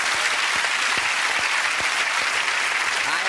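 Loud, dense applause from a TV game show studio audience, sustained and even throughout, with a few faint voices and whoops mixed into the clapping.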